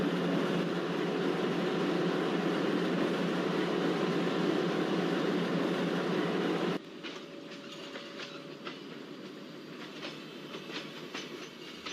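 The LTT Garib Rath Express pulls out of Kochuveli station with a broad rumble of wheels and cars that suddenly drops to a quieter, steady rattle with a faint tonal hum.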